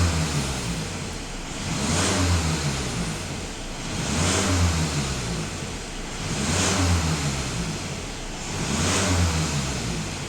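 Engine of a diesel Skoda Superb (VAG) revved to nearly 3000 rpm, swelling and easing in a regular cycle about every two seconds, close and steady with no talking.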